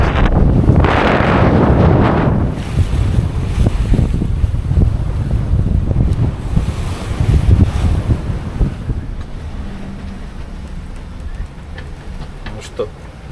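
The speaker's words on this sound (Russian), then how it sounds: "А море по-прежнему беспокойное. Волны, они идут с разных сторон" Rough, choppy sea sloshes against a small sailboat near Little Bahama Bank, with heavy wind buffeting the microphone in loud gusts that ease toward the end; someone speaks briefly over the noise.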